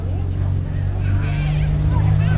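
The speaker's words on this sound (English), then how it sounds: "and then a Spartan kit car" A Spartan kit car drives past slowly in a village parade, its engine giving a steady low hum under the chatter of a nearby crowd.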